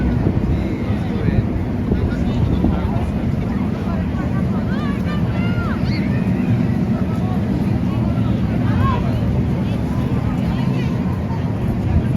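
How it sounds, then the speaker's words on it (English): Steady wind gusts roar across an outdoor street in New York City near Grand Central Madison, a broad constant rush buffeting the microphone for the whole stretch, with faint voices and city noise beneath. "Wind is starting to pick up."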